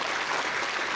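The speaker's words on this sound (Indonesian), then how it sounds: "Tepuk tangan untuk Denpasar." A brief burst of dense, even audience applause at an official inauguration ceremony in Denpasar, Bali, filling the moment with no pauses.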